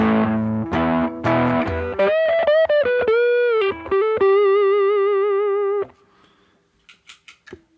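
Overdriven electric guitar on the neck pickup with a warmer, rounder classic rock tone plays chords and then sustained bent notes with vibrato, fading into a few soft string taps.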